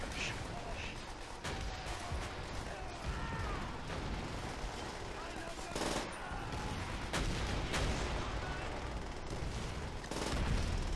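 Sustained gunfire in the video game Call of Duty: World at War while shooting Germans, dense overlapping rifle and machine-gun bursts with loud blasts, forming a continuous battlefield din.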